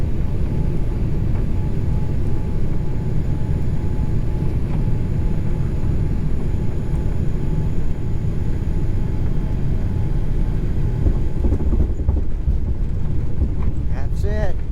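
Airliner cabin roar during final approach to a runway in Vietnam, a steady loud broadband engine and wind rumble filling the whole stretch, with people talking over it.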